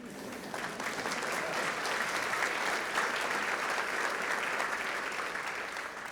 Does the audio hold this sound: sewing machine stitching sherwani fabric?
no